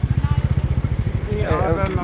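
A motorcycle carrying three riders, on the road back from Naina Devi, chugs with a steady, close engine putter that fades into a broader mix of road noise and voices near the end.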